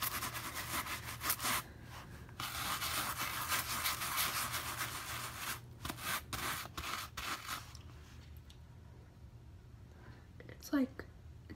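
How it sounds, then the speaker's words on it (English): A stain is scrubbed with a homemade stain remover, producing a quiet, steady rubbing and scratching for about eight seconds, broken by brief pauses, before it fades to near silence with a few faint handling noises. "Let's scrub again."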